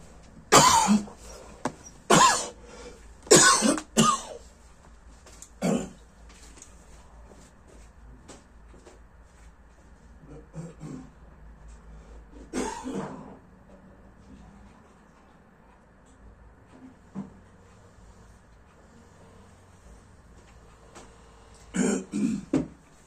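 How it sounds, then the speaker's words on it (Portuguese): Several sharp coughs and throat-clearing bursts in quick succession near the mic, then quiet room noise, with another cluster of coughs at the end. "a garganta começa a pigarrear"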